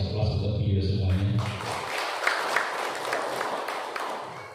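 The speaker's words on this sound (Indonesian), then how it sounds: "Sebagai penghormatan kita kasih aplaus untuk beliau semuanya." An audience applauds at a village government event in Wonogiri, Indonesia: after a voice opens, a dense wash of clapping builds and holds steady, fairly close and loud.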